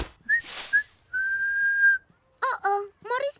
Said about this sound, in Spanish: Así es como se silba.